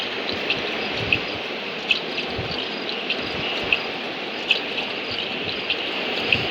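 In the Granny video game, fuel pours steadily into a helicopter as a continuous liquid trickle, with small drip-like ticks repeating at a regular pace, moderately loud and alone.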